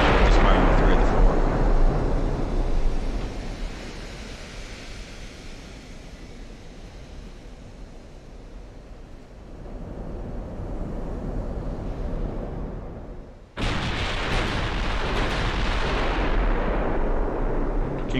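A Bismarck battleship's gun salvos in the naval game Ultimate Admiral: Dreadnoughts: a heavy booming blast rolls into a long rumbling decay, then a second loud broadband burst near the end, with a voice talking over it.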